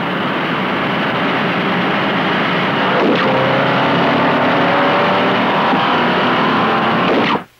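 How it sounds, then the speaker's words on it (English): A 1963 Chevrolet Impala and a 1963 Ford Galaxie accelerate together from 50 to 80 mph on a test track, a loud, steady roar of engines and wind that swells slightly and cuts off abruptly at the end. "Both cars will accelerate together up to 50 miles an hour, hold on 50, then on signal,"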